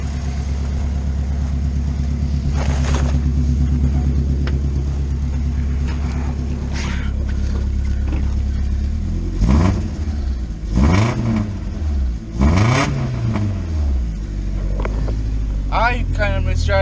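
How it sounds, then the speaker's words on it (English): A manual Dodge Avenger idles after a cold start, a steady low engine hum with a few short revs near the end, while a person talks over it. "I'm going to let it sit here and idle up, charge up for a little bit"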